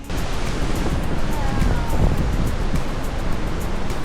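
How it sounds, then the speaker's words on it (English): A powerful Icelandic waterfall on the Golden Circle roars as a loud, steady broadband rush of falling water that fills the whole scene. "You can actually feel this waterfall, not only hear it and see it"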